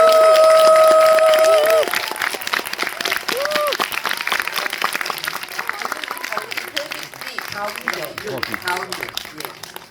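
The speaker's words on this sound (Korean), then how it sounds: "여러분 박수 부탁드리겠습니다." A packed cinema audience applauds as a film director and actor take the stage, the sustained clapping filling the hall while an amplified host speaks over it and a tone briefly sounds at the start.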